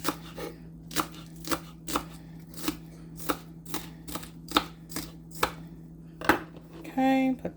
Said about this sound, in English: Now, I'm going to cut the scallion.